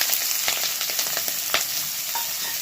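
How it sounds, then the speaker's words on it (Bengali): Chopped garlic and onion frying in very hot oil, a close continuous sizzle with scattered crackles and spatula scrapes, no voices. "এবার এটাকে ভেজে নেব"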